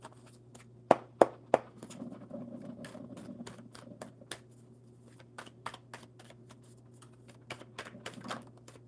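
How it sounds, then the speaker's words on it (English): A deck of cards being shuffled by hand at a table, three sharp riffle snaps at first, then a run of softer flicks and taps at an uneven pace, close and fairly quiet over a low steady hum. "Shuffling these cards for you."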